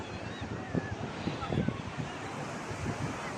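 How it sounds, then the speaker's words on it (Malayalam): Strong wind sweeps across Payyambalam beach on a kite-flying outing, buffeting the microphone with a steady roar and gusty bumps, while surf and faint voices sit underneath. "അപ്പൊ നല്ല കാറ്റുണ്ട്"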